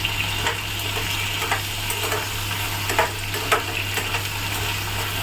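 Potatoes frying in a pan for a simple potato fry, stirred with a steady close sizzle and a few soft scraping strokes, no voices.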